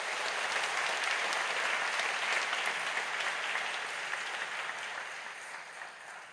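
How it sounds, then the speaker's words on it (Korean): Church congregation at a Sunday worship service claps to welcome a new pastor, a steady, soft wash of many hands that gradually tapers off. "여러분 크게 박수로 환영하시지요"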